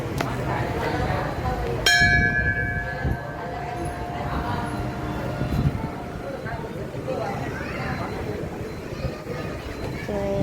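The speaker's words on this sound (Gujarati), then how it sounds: "ઘંટી વગાડી લઈએ" A single bright strike of a temple bell at the Kantheriya Hanuman temple in Surat rings out and slowly fades, over the steady murmur of a busy crowd of visitors.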